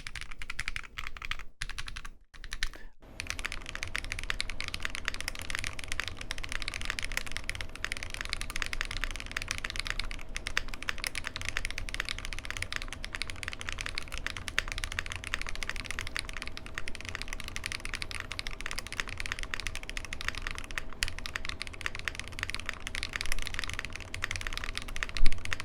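Continuous, steady typing on an Aaru65 mechanical keyboard with flex-cut plate and PCB, close up and fairly even in loudness for the whole stretch, with no talking.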